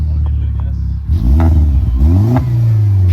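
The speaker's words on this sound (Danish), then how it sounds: "en bil, der larmer af helvede til" A loud car engine revs hard several times, close, roaring up and dropping back before settling into a rough idle, smoking heavily.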